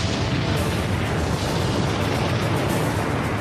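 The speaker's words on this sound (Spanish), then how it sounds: "Luego el Vesubio erupcionó." A volcanic eruption of Vesuvius rendered as an explosion sound effect: a loud, continuous, roaring rumble that fills the whole stretch without letting up, with no voices.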